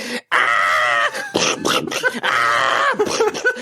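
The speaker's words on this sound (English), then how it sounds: "would you like to scream and wave a gun around for us?" A man screams loudly on request, two long sustained strained yells with a brief gap between them, raw and voiced, close to the mic and alone.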